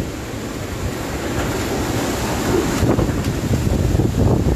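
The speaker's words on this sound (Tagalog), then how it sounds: "Yan, ganun kalakas ang hangin dito ni Bagyong Rolly" Super Typhoon Rolly (Goni) wind roars around a building at a police station in Naga City, a dense, continuous rushing gust that swells louder toward the end, with no speech.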